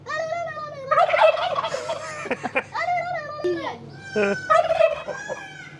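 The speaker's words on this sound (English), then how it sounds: "getting the turkeys to talk back to him" Turkeys at a holiday resort in Les Landes, France gobble in several loud, rattling bursts, close by, with a voice mixed in among the calls.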